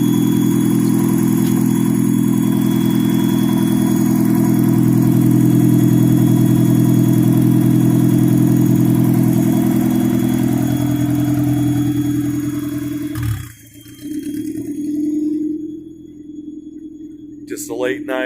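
A turbocharged Mazda Miata engine runs after its first start-up, a loud, close, steady idle with a clattery edge that settles and then dips, with brief rustles near the end.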